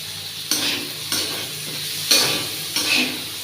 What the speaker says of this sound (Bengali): এবার আলুটা ভাজা হয়ে গেলে এবার পেঁয়াজগুলো দিয়ে দেবো